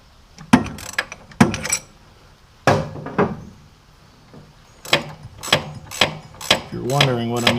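Several sharp clicking ratchet strokes with pauses between them, close and fairly loud, as a ratchet fitted with a cheater bar made from a broken torque wrench tailpiece works on a 1931 Plymouth brake; a brief voice-like tonal sound comes at the end.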